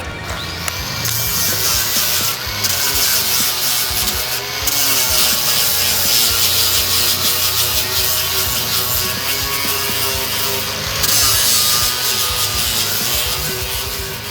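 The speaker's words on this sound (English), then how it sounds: "grab your grinder here with the sand pad. Go ahead and clean up all these spot welds here" A grinder fitted with a sanding pad scrubs spot welds on a 1965-70 Mustang body, a loud, continuous abrasive rasp with rhythmic surges as the pad is pushed across the metal.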